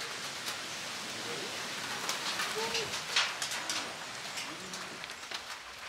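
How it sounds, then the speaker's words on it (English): Steady rain falling at a jungle camp in Trinidad, a constant broad hiss with scattered louder drops, while a dove coos softly in the background. "And then the rain came down."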